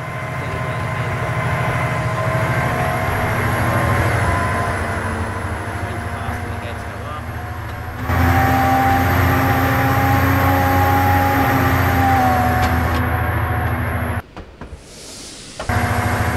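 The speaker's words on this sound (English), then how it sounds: "train passes, the gates are still down" A model railway train rolls past a level crossing on a layout with the gates lowered, giving a steady, loud mechanical hum and whine that holds throughout and drops out sharply near the end.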